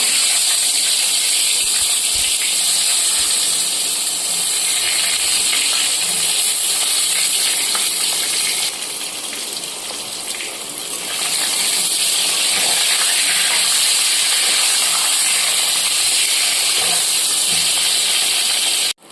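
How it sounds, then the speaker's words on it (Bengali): Eggplant pieces frying in mustard oil left over from frying fish, a loud continuous close sizzle with a brief softer dip partway through and occasional light knocks, without talk. "এবার মাছ ভাজার তেলে বেগুনগুলোকে আমি ভেজে নেব।"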